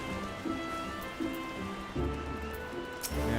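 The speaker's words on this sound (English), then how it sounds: "It's raining in-game as much as it's raining outside my house right now." Steady in-game rain in Final Fantasy 14, a soft continuous hiss of falling drops with a few low, hollow thumps breaking through the wash at moderate loudness.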